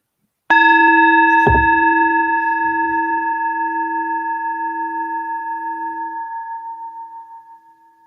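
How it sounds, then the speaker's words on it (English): A meditation bell struck once rings out loud and clear, its bright, steady tone slowly fading over several seconds in a quiet room. "Allow yourself to simply follow this bell"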